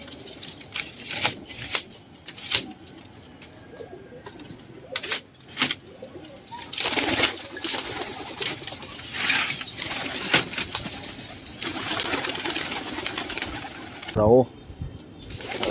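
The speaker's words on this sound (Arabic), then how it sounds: "هنفتح الحمامتين، هنمشيهم ونقعد نتكلم مع بعضينا" Pigeons coo softly while wings flap and rustle in scattered bursts as the birds are let go, with a burst of fluttering near the end and someone speaking briefly.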